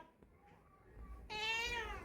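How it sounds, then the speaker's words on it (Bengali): A cat gives a loud, drawn-out meow near the end, preceded by quieter background noise and faint rustling. "তোমার তো শুধু মেয়াও আর মেয়াও"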